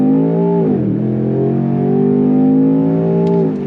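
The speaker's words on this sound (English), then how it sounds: "I want to show you that this does have a dynamic launch control." A 2026 Range Rover Sport SV in SV mode held on launch control, its engine note loud and close as revs build, dip briefly, then surge steadily upward and fade at the end, with no talk over it.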